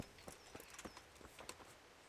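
Horse hooves clip-clop at a steady walking rhythm in the medieval video game Kingdom Come: Deliverance, the light, fairly faint hoofbeats heard alone without talk.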